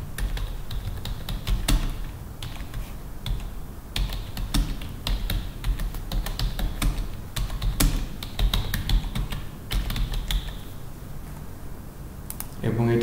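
Keys on a computer keyboard click and tap in quick irregular bursts, close and crisp, with short pauses between runs of typing and a low murmur of background sound underneath.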